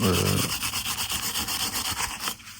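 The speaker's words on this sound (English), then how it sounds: "As you can see, a lot of scraping. I prefer to scrape using wood because it doesn't damage both the steel and the wood handle." A piece of wood scraping rust off the steel blade of a vintage Morakniv Scout knife with a wooden handle, rhythmic rasping strokes repeating steadily at close range, no voices.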